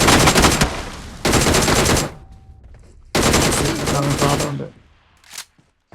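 A mobile shooting video game fires loud, rapid bursts of automatic gunfire in two long volleys separated by a quieter gap, then fades to a brief faint shot and silence.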